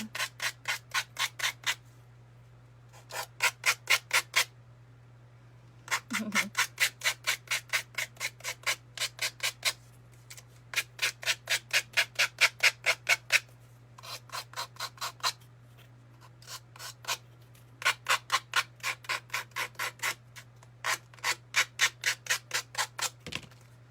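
Wood for an Easter sign is sanded by hand on both sides in quick back-and-forth strokes, grouped into short bursts with brief pauses, over a constant low electrical hum.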